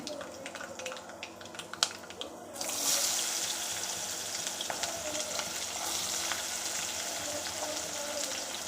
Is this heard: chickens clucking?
no